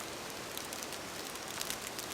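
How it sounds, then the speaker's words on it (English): Light rain patters softly and steadily on a surface at the start of autumn, a faint, even hiss of drops with no voices. "we've just got some rain come through"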